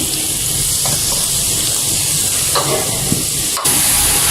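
Four or five finely chopped onions sizzle and fry steadily in a hot pan for a boal fish curry with raw mango, giving a loud, continuous hiss with faint stirring clicks.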